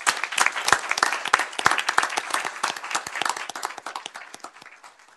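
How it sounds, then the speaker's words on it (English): Scattered applause at a city council meeting: a smaller group claps with individual distinct hand strikes, uneven and close, fading out after about five seconds. "That calls for a round of applause."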